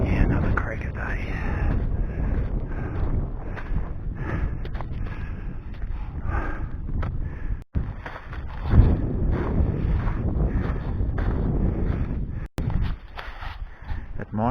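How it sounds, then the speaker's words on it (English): Cold, freezing wind gusts hard into an outdoor microphone in chamois country, a steady loud low rumble with buffeting throughout, cutting out briefly twice. "It's blowing freezing bloody wind."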